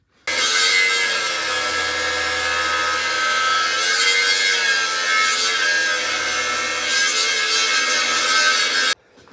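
A power saw cuts through the old original frame tails of a 1959 Dodge 4x4 truck, a loud continuous grinding whine that holds for several seconds before stopping abruptly.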